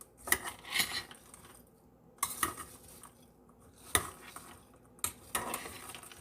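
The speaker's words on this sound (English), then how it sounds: "We're going to give this a little mix" A spoon scrapes and stirs mince pie filling in a small pot, with a few sharp clinks against the metal rim spaced between quieter scraping strokes.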